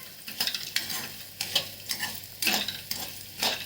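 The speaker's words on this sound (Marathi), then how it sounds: "करपून असे वडे छान असे भाजून घ्यायचे तेलावरती" Vade dumplings frying in a pan of oil, a steady sizzle broken by repeated scraping stirs of a spatula, close and moderately loud with no talking.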